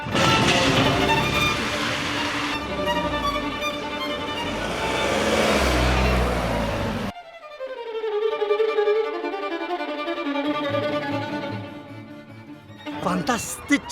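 A car driven hard on an open paved area at a charity ride-with-the-stars event in Kalisz, engine roaring loudly with tyre noise, then a quieter stretch with a rising engine tone, crowd and voices audible under it.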